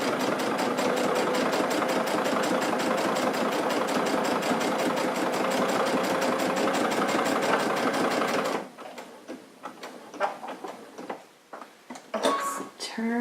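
A sewing machine topstitching a patch pocket runs in a fast, steady mechanical whir for several seconds, then stops, leaving quieter handling clicks and faint speech.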